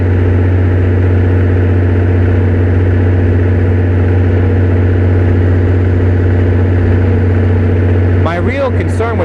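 A Perkins diesel generator engine, leaking fuel from its pump, runs loud and steady with a constant low drone close by, briefly overlapped near the end by a short burst of higher-pitched sound.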